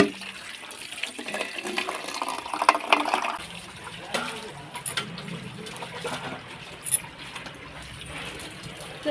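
Water runs and splashes steadily while filling, close by in a home setting, with faint voices and clatter around it.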